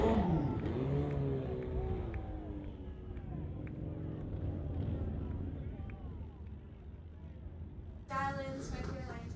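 A drag race car engine idles and rumbles at a strip during an NHRA Summit ET series meet, a steady low drone with harmonic whine under a commentator's voice, then a sharp rise in revs near the end.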